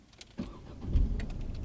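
A manual-transmission car is started with the key: a brief cranking surge, then the engine catching and settling into a steady low idle, heard close from inside the cabin.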